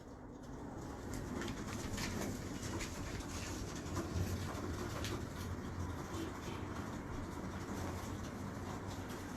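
Kasuri pigeons coo softly at a pigeon club in Pakistan, low repeated calls sitting under a steady background rumble, moderately faint and without speech.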